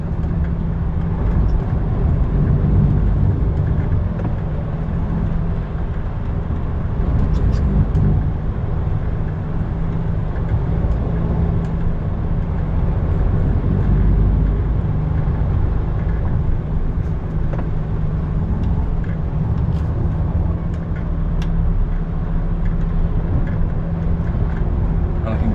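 Cars keep driving past along a road, making a steady, continuous traffic rumble that stays fairly loud throughout with no clear gaps between vehicles.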